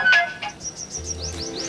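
Electronic phone tones beep in a quick series of short, distinct pitched pulses, close and clear, like keypad dialing on a telephone, with no voices over them.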